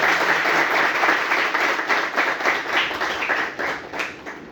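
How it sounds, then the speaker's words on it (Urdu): An audience at a bar vocational course closing ceremony claps to thank the teachers, a loud, dense round of applause that gradually thins and fades toward the end. "ان کا تالیاں بجا کے شکریہ ادا کرتا ہوں"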